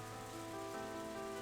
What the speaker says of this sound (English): It had been raining since midday.